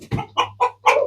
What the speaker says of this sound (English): It's chickens.